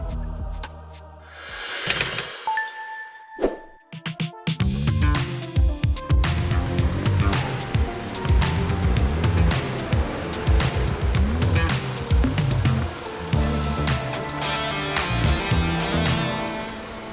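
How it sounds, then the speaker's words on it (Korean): A car engine starts up and its worn, hardened serpentine fan belt squeals in the engine bay, a bright chirping whine riding over the running engine after a brief cranking burst, loud and close. "시동 걸면은 이렇게 어, 새 소리가 나요."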